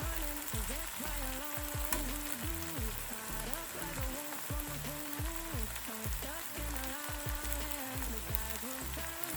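Eggs fry in a pan with a continuous crackling sizzle, while tonal music with a steady beat plays prominently over it.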